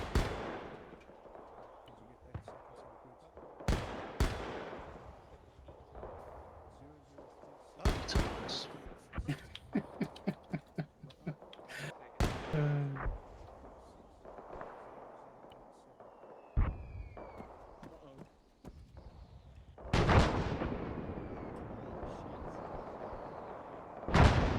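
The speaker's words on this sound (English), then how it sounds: "is that artillery coming right on us?" Artillery in the Arma 3 World War II Battle of the Bulge game lands as scattered booming impacts and sharp cracks, some distant and some close, with radio chatter between bursts.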